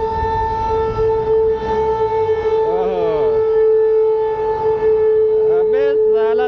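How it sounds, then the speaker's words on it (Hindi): A factory or mill siren wails steadily and loudly at a fixed pitch beside a busy road, sustained throughout with traffic rumble and brief tonal horn sweeps underneath. "अबे साला सायरन बज गया बे,"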